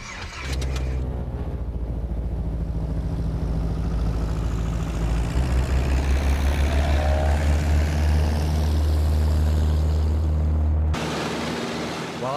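Small propeller plane flying toward a remote spot in dense northern forest, a steady loud droning engine hum that holds throughout and cuts off near the end.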